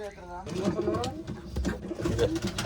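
Old line pigeon for sale in Bangalore cooing in soft repeated throaty phrases up close, with people talking over it.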